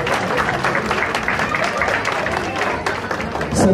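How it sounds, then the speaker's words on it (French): A crowd in a hall applauds a married couple at a wedding celebration. The clapping is loud and dense, with murmuring voices mixed in. "Je vous prie de les applaudir."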